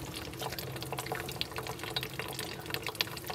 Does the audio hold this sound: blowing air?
no